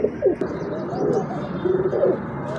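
A pigeon coos up close in several soft, throaty phrases over faint background noise.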